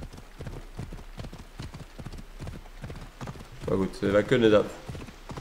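Horse hooves clop in a rapid, even galloping rhythm while riding in Assassin's Creed Odyssey, steady throughout as someone talks over the middle and end.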